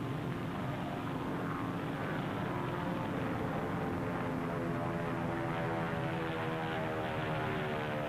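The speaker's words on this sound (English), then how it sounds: "Photographic planes return from Bikini and land on their floating bases at sea." A steady, droning propeller aircraft engine hums continuously and fairly loud, with a rough, even tone throughout, as 1946 photographic planes return from Bikini atomic tests to land on floating bases at sea.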